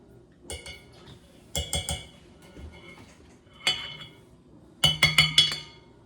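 A spoon scooping homemade butter out of a dish gives scattered metallic clinks and scrapes against the dish, some in quick clusters of three or four, close and clear with no talking.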